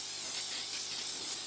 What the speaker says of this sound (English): First thing to do is to spray the tin